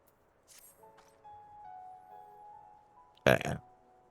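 A video game character in Final Fantasy XIV lets out a single short, loud burp after a stretch of quiet game music and faint sound effects.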